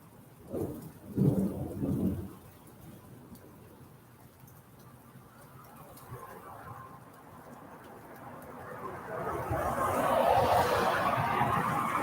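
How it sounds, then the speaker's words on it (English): A couple of low rumbles of thunder open a monsoon storm in Phoenix, Arizona, followed by steady rain that builds into a louder, hissing downpour toward the end. "We're just experiencing the rain now."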